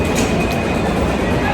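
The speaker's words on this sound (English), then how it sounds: "You're just waiting for the train to get here." An airport train arrives with a loud, continuous rumble and rushing roar close by, holding steady throughout the short stretch.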